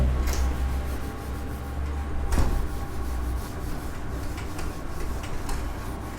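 A board being wiped to erase writing during a physics lesson on relative velocity, a continuous close scraping rub with a brief sharper knock partway through, no talk.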